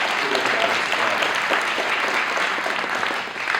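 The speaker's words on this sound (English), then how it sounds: "Another round of applause for" An audience at a talk on adapting books to film claps continuously and fairly loudly. The dense applause fades slightly at the end.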